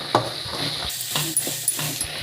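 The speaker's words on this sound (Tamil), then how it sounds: "நல்லா தண்ணி எல்லாம் சுண்டி போகிற அளவுக்கு இந்த மாதிரி பரட்டி விடுங்க." Boiled chickpeas are stirred in a pan as the water cooks off, with soft scraping strokes and light sizzling repeating over a bubbling background, close and fairly loud.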